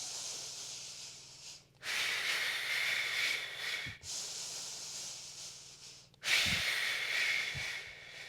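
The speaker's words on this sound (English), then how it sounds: "Make sure you're breathing that 5 count in through the nose" Three long nasal breaths during a beginner Pilates core exercise, each a steady airy hiss lasting about two seconds, separated by brief pauses, close and clear with no speech.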